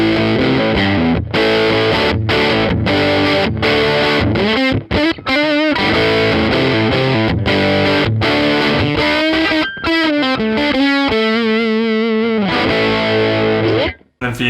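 Electric guitar with a P90 bridge pickup played through gain and distortion, loud overdriven chords and riffs with short breaks between phrases.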